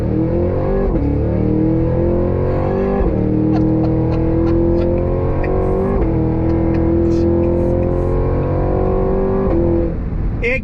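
A 2023 Cadillac Escalade-V performance SUV launches at full throttle, its engine roaring loud and close and climbing steadily in pitch through repeated gear shifts without a break.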